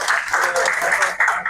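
Loud, dense applause from an audience at a youth organization gathering, many hands clapping steadily and close throughout.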